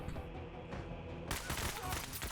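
Gunfire in the video game Menace, played on expert difficulty, erupts abruptly after a quieter stretch of game ambience and continues as a dense, loud barrage of shots through to the end.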